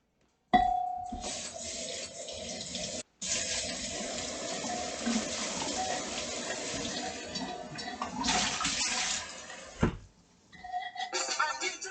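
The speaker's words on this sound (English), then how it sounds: "I'm gonna rinse this because there's sometimes dust inside." Tap water runs steadily into and over a slow cooker pot as it is rinsed, a continuous close splashing rush with a brief break near the start and a pause before it trickles out.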